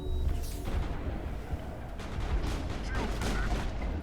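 Combat in Mass Effect on Feros, with a steady wash of gunfire and explosive rumble holding under the noise, a few sharper shots poking through, and faint speech in the mix.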